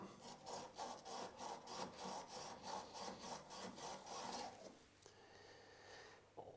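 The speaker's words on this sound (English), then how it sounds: "remove the burr by rubbing it along a flat bench stone like that" A chisel is rubbed back and forth along a flat bench stone to remove the burr, giving about a dozen steady, close rasping strokes in a regular rhythm before the scraping stops and the workshop falls quiet.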